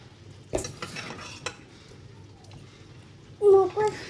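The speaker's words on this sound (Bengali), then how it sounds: "মটর ডালটা দেওয়ার পর এবার ভালো করে মিশিয়ে নেব" Matar dal stirred together with boiled mango in a pot, with a few faint scrapes and clinks, then a brief louder clatter of utensil against the pot near the end.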